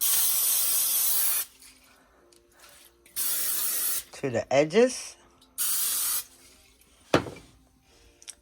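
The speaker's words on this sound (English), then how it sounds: "I have some nonstick spray. I'm just going to spray the bottom very lightly." Nonstick cooking spray hisses onto the bottom of a cake pan while preparing a sweet potato honeybun cake: three short, loud, airy bursts separated by pauses, with a person talking between them.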